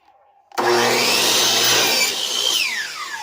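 Power saw cutting a wooden board for a homemade planter box, starting abruptly after a brief quiet lead-in and running loud and steady for close to three seconds before the pitch drops away as the blade finishes the cut.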